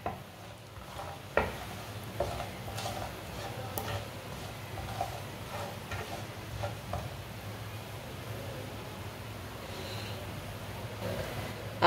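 Whole coriander seeds and crushed cumin fry in oil in a pan over low heat, a soft continuous sizzle with occasional light pops and stirring scrapes.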